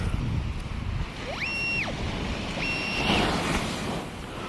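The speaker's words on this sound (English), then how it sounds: "here we get, we get some pretty good waves" Waves break and rush steadily on a New Jersey beach, with a broad wash of surf and wind on the microphone, and two brief electronic beeps from a metal detector.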